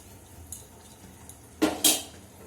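Leftover fried potatoes being reheated in a pan, a quiet background broken by two quick, loud metallic clatters of a spatula against the pan near the end.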